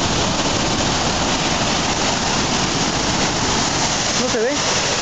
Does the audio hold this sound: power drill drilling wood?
no